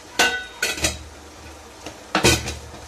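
Metal spoon scraping and clattering against a pan while masala is stirred and roasted with chili powder, several sharp bursts of clinks separated by short pauses, close and fairly loud with no talking.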